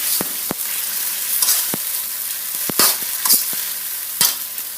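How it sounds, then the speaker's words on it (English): Seasoning being stirred into a frying pan, with a steady sizzle under sharp, repeated scrapes and clicks of a utensil against the pan at an uneven rhythm, close and fairly loud. "Right, so mix that in."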